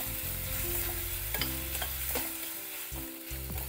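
Onion and tomato sautéing in a pan for a potato gravy, a steady close sizzle with a stirring spoon scraping and clinking now and then, no voices.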